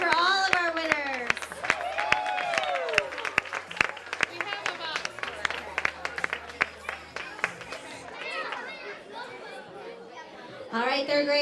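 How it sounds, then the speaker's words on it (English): A school audience at a lower school music event claps for the winners, scattered sharp hand claps over lively crowd chatter and children's voices, with people talking throughout. "Round of applause for all of our winners."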